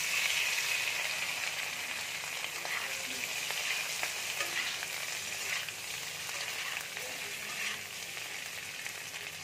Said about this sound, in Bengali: আলুটা মোটামুটি ভাজা হয়ে এসছে।